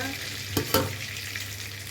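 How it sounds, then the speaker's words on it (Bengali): A bay leaf drops into hot mustard oil for tempering, producing two sharp crackling bursts over a continuous sizzle. "ফোড়নে দিচ্ছি তেজপাতা"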